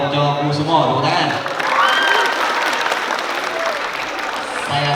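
An audience at a school motivational event breaks into applause, a steady wash of clapping lasting several seconds, with a voice speaking over its start.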